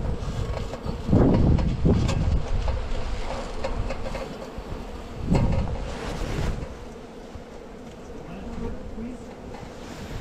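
A honeybee swarm buzzes loudly and steadily outdoors, a dense continuous drone with surges and some wind noise against the microphone.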